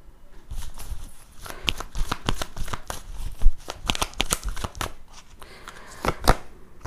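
Tarot cards riffle and slap in repeated quick shuffling bursts up close, with crisp flicks and card snaps scattered through the stretch and no talk over them.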